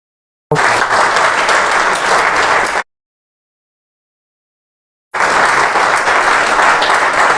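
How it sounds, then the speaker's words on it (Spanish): Church congregation applauding, two dense bursts of clapping of a few seconds each, separated by a clean silent gap, loud and close. "eso se merece un gran aplauso"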